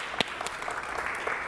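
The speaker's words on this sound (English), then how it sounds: "thank you for all of those who are clapping at home or wherever you might be" Audience applause at a forum on religious difference at St. Bart's, a brief wash of steady clapping from a crowd, moderately loud and continuous.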